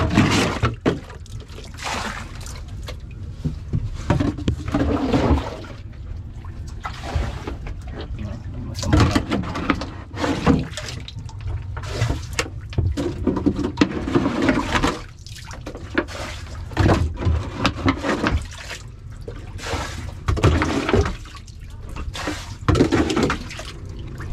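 Repeated splashes and sloshing of water as it is bailed out of a boat, uneven scoops and pours going on continuously, with occasional knocks and clatter nearby.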